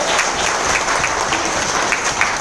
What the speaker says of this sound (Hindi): मेरे ग्रेट अपलाइन धर्मान पंड्या सर, इसलिए जोरदार तालियां होनी चाहिए